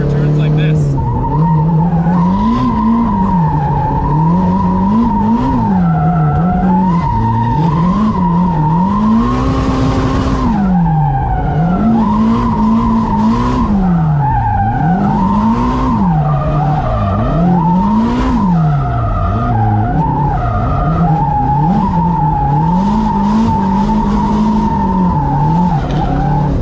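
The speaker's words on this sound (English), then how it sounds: "So the handbrake is for turns like this." A Porsche-like car pulls handbrake turns with tires skidding and squealing in long wavering screeches over a steady, loud engine drone, with occupants talking and shouting throughout.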